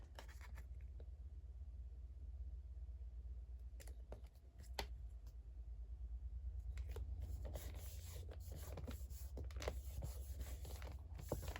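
Scissors snipping through patterned paper to cut out a shape for a mini album page, a series of quiet, close cuts. The cuts grow busier and more rustling toward the end, with no talking.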